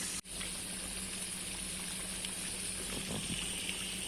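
Cabbage wadi shallow-frying in a pan over a medium flame, a steady, even hiss and sizzle with a few soft pops, continuous throughout and with no speech.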